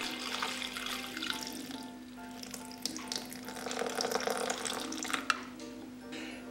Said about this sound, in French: je rajoute 180 grammes d'eau